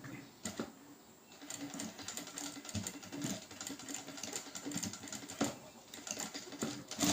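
A sewing machine stitching a blouse runs in short, faint bursts of rapid mechanical whirring and clatter, starting and stopping with small pauses between runs.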